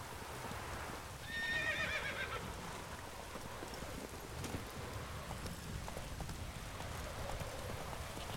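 Roach, a horse in The Witcher 3: Wild Hunt, gives one clear whinny over steady clip-clopping hooves, with rain falling softly in the background.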